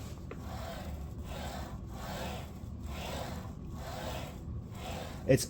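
The head of a Makita 8.5-inch sliding miter saw rolls back and forth on its rails, giving a soft, rhythmic rubbing glide repeated several times, close and quiet, ending with a small knock.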